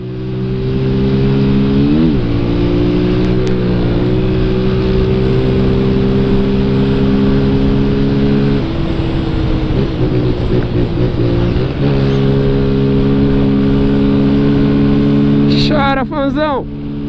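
A Honda Fan motorcycle engine revs hard and close, a loud buzzing drone that shifts pitch in steps as the throttle changes and climbs sharply near the end, with background noise throughout.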